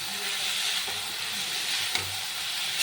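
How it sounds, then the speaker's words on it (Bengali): Sugar being stirred in a hot kadai gives a steady, moderately loud sizzling hiss throughout, with a few faint scraping knocks of the spoon against the pan. "চিনিটা কড়াতে দিয়ে দিয়েছি, এবার এটা খুব সুন্দর করে নাড়িয়ে নেব।"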